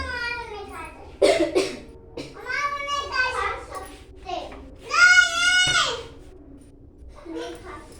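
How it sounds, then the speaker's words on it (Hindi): A child coughs in a few short harsh bursts, close by, mixed with whiny child vocalizing and brief cries. "गले में खराश पड़ रहा है, एकदम खांसी के टाइप में हो रहा है।"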